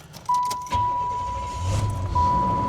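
A car that has sat without antifreeze fires up, its engine catching quickly and settling into a low, steady idle rumble under a constant thin whine, close by with no talking.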